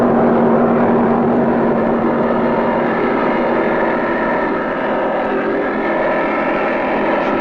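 Engines of a 39-foot offshore racing powerboat running flat out in a 1980 championship race, a loud continuous roaring drone with steady pitch and no letup, heard close with no voices.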